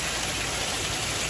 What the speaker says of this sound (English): Now it's raining like cats and dogs.